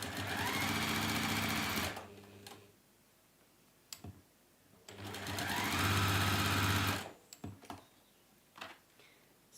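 A sewing machine stitches fabric pouch tabs in two sustained whirring runs, each a couple of seconds long, with small clicks and handling taps between them and no talking.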